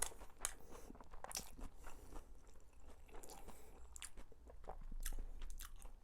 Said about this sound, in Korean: 그래도 어쩔 수 없이 단무지 이불 덮고 먹어보겠습니다.